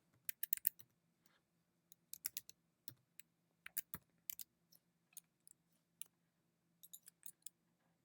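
Someone types IP addresses on a computer keyboard, quick irregular bursts of light key clicks with short pauses, close and quiet in a still room.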